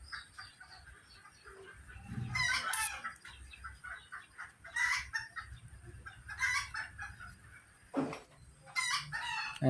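A chicken at home, near a kitchen where vegetables are being boiled, crows and clucks in several loud bursts that repeat across the stretch, with quieter background noise in between.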